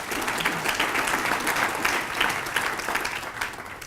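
A large room of people at a city government address breaks into sustained applause, dense and steady clapping from a big crowd at fairly close range, with no talking over it.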